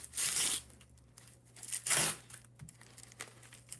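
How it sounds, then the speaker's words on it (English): Tissue paper tearing and crinkling as a dull knife drags through it while a wooden box is unboxed, two loud ripping bursts followed by softer rustles, close and with no talking. "This knife is so dull it won't even cut tissue paper."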